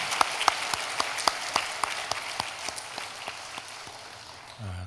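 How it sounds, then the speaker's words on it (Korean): A church congregation at a Sunday worship service claps to welcome visiting worshippers, with a fairly quiet, even rhythm of sharp, regular claps that fades toward the end. "우리 박수로 맞이하겠습니다"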